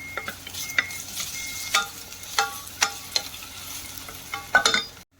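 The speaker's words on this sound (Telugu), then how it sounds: "ఇప్పుడు ఇందులో మనం అల్లం వెల్లుల్లి పేస్ట్ని కూడా యాడ్ చేసి ఒక నిమిషం పాటు ఫ్రై చేసుకోవాలి" Onions and ginger garlic paste fry in a pan for khuska rice, with a spatula scraping every second or so over a soft sizzle.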